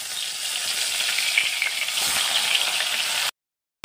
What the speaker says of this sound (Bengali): তেল গরম হয়ে গেল, এতিয়া মই এতে একটা মাছ এটা দিব।